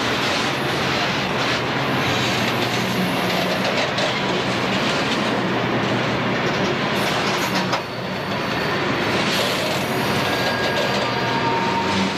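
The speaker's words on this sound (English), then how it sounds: "Leading the next train is a renumbered and painted GP35." A heavy diesel freight train led by a GP35 locomotive rumbles past close by on Cajon Pass with continuous wheel clatter and deep engine drone, steady and loud throughout.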